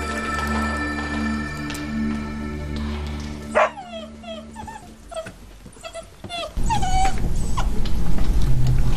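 Eight-week-old puppies whimpering and yipping in a string of short, high cries close by, followed by a louder stretch of rustling and noise, with no talk.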